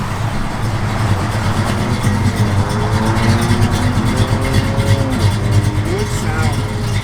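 A 1972 Plymouth Road Runner V8 with a mild cam idles steadily, a loud, deep, continuous rumble up close while people talk over it.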